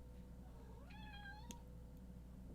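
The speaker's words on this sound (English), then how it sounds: "Everyone say hi to the cat." A house cat gives a single clear meow, a rising then gently falling tone that is faint and nearby, over a steady background hum.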